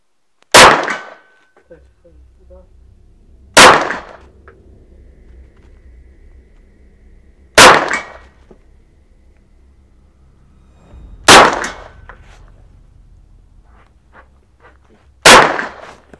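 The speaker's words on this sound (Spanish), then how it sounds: "Disparo a 60 metros." Pistol shots fired at a 60-metre range during Spanish army training in Poland: five sharp, loud reports spaced about three to four seconds apart, each ringing out briefly over a low steady background rumble.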